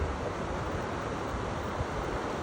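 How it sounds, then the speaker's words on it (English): The 77-foot Turner Falls in Oklahoma on a windy, cold day gives off a steady, dense rushing roar of falling water, with wind rumbling on the microphone and no talking. "It's really windy and kind of cold, but there's the falls."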